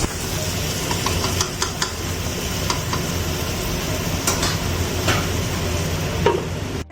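Goat mutton frying in a pan for an Assamese-style curry, a dense continuous sizzle with scattered scraping and stirring clicks, close and steady throughout.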